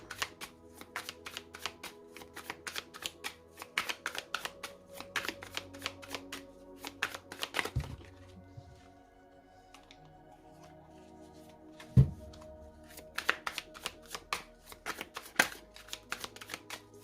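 Tarot cards are shuffled by hand, close and clear: long runs of rapid, crisp riffling flutters, broken by a quieter pause with a soft tap and slide of cards, then another fast burst of shuffling.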